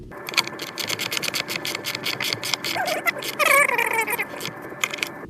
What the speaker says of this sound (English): We're going to go ahead and install our upper control arm nut.